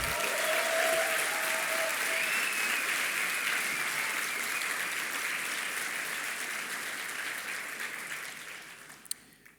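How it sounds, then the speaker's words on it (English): Sustained audience applause after an opening address at a business school event, a dense wash of clapping holding steady for most of the stretch before fading out near the end. "Can we please get a round of applause for them?"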